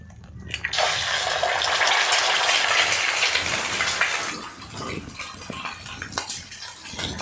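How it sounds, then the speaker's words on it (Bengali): An egg cracked into a few spoonfuls of hot oil in a kadai bursts into a loud, hissing sizzle that holds for several seconds, then settles into quieter crackling with light clinks. "কড়াইয়ের মধ্যে ডিমটা ভেঙে দিয়ে দিচ্ছি"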